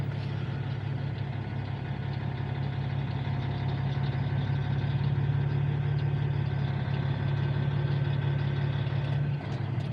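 A heavy delivery truck engine runs steady and loud under load, a constant low rumble throughout with no talk.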